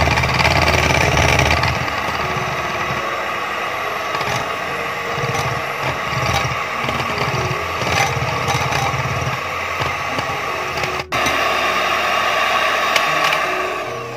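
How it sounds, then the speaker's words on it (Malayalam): An electric hand beater whirs steadily as it beats cake batter in a home kitchen while making bakery-style cream buns, a continuous motor drone running close and fairly loud throughout. "ഇനി നന്നായിട്ടൊന്ന് ബീറ്റ് ചെയ്തെടുക്കാം കേട്ടോ."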